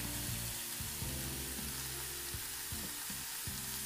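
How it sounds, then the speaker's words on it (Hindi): Dill leaves and boiled potatoes stir-fry in a pan with a soft, continuous sizzle and occasional stirring clatter, faint and steady throughout, with no one speaking. "सोया अच्छे से भुन गया है, नेक्स्ट हम इसमें डालेंगे ये बॉइल्ड पोटैटो"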